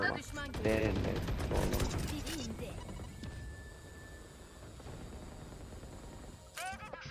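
Gunfire from a player running and shooting in Valorant comes as a flurry of quick, fairly quiet shots at the start, then the shooting fades and voices carry on.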